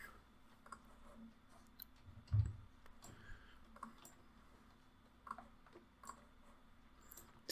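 Soft computer mouse clicks, a few sparse single clicks spread out over a quiet room background, fairly close but faint.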